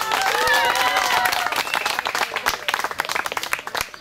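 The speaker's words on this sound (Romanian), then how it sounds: "Felicitări! Aplaudați!" Audience applauding award winners at an environment day event in Chirnogi, with dense clapping and cheering voices at first that thin into scattered individual claps.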